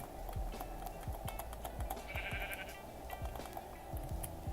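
Faint Minecraft sheep bleats repeat over a steady background hum, with scattered clicks and taps throughout.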